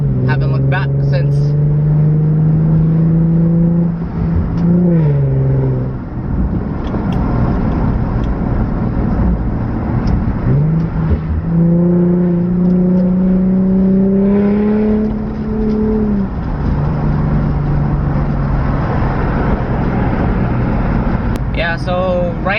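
An Infiniti G37 fitted with an Exotic Speed exhaust drives along, its engine droning loudly and rising and falling in pitch through shifts and revs, with the steady whoosh of road and interior noise.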